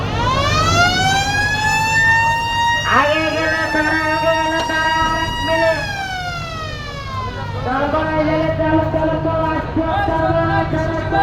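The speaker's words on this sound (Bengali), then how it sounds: "এই যে লঞ্চের সাইরেন বেজে উঠছে।" A passenger launch's siren at the Barisal launch ghat, loud and close, sounding in long sustained horn-like blasts with shifting pitch that overlap one another across the whole stretch over a busy waterfront background.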